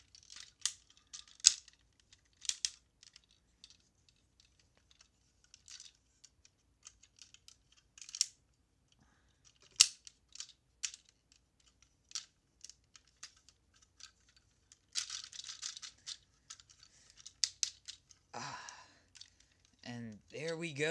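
Plastic Energon Transformers toy parts being folded and clicked into place, a scattered series of small, crisp clicks and snaps close by, with brief rustling handling noises between them.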